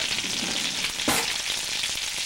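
Homemade Swedish meatballs frying in a pan on low heat, a close steady sizzle with soft crackling and one brief clatter partway through.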